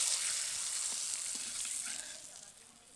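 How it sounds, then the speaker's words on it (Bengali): Tomato rice papad dropped into hot oil, a loud hissing sizzle that fades gradually over a few seconds, close and without speech. "একটা একটা করে পাপড় দিয়ে ভেজে নেব"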